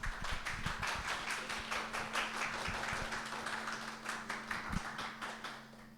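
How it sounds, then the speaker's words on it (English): An audience at an evening speaker talk breaks into steady, dense applause that fills the room for several seconds, with no voices over it. "please give a warm welcome and a round of applause for our speaker tonight, Nico Bartels."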